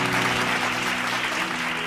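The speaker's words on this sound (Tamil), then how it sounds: "கைத்தட்டுங்க அவருக்கு" Audience applause at an evening Bible study gathering, a dense, steady wash of many hands clapping together, loud and sustained throughout with no voices rising above it.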